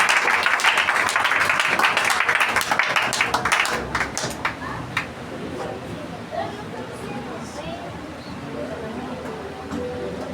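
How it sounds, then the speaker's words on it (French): A church congregation claps loudly and densely for about four seconds, then the applause fades into a murmur of chatter and scattered voices. "Applaudissez présence pour Dieu dans la vie, pasteur,"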